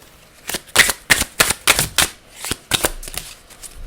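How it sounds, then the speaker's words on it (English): A stack of message cards being shuffled in quick bursts, about eight crisp riffling swishes close up, each a short papery flutter with brief pauses between. "I've just got some message cards here. Let's shuffle them"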